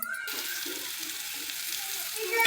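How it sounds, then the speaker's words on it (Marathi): A chili, garlic and coriander paste with cumin sautés in a hot pan, giving a steady close sizzle with light stirring scrapes, briefly louder at the end, with no talk. "वाटण घालून छान असं परतून घ्यायचं 2-4 मिनिट"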